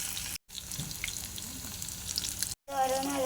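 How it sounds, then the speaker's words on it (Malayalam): Taro leaves fry in hot oil in a frying pan, giving a steady close crackling sizzle broken by two brief silent gaps. "ഈ ഓയിലേക്ക് ഇട്ട് കൊടുക്കണം. നമുക്കൊന്ന് പൊരിച്ചെടുക്കണം, ഫ്രൈ ചെയ്തെടുക്കണം."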